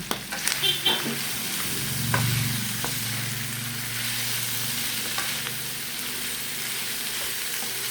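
Pork binagoongan sizzles and frying steadily in a pan as wilted chili peppers are added, with a few stirring clatters early on and a continuous crackle throughout, no talking.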